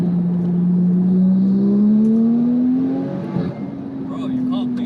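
A car with an ES800 limited-slip differential upgrade accelerates hard, its engine note climbing steadily in pitch, breaking with a gear change, then pulling again, loud from inside the cabin.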